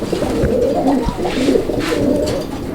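A pair of fancy Bontinet pigeons at a Bangladeshi pigeon sale coo loudly and close by. Their deep, rolling, continuous calls are joined by faint higher chirps in the background, with no speech.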